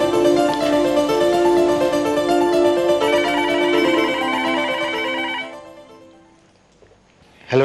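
A telephone rings in a police crime drama, a loud, steady electronic ringtone that repeats for about five seconds before cutting off and fading, followed by a short noise at the end, with no talking.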